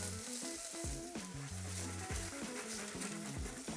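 Mushrooms fry in salted butter in a hot pan, giving a steady close sizzle and crackle throughout, with music playing over it.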